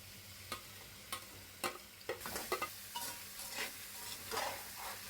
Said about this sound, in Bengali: আমি এটা ভাজা করে নিব এই তেলায়।